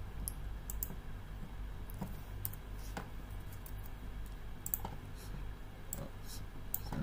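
A computer mouse gives soft, sparse clicks at irregular intervals over a low, steady background hum.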